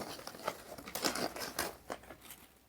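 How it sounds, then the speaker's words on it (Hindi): A polythene bag crinkles and rustles as it is pushed inside a container, giving a close, irregular crackle of plastic for a few seconds with no voices. "पॉलीथीन इसके अंदर डाल देते हैं।"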